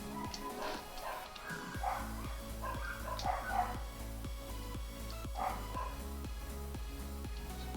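A dog barks repeatedly in the background, a steady series of sharp woofs with a few yips, moderately distant and continuing throughout over a low hum.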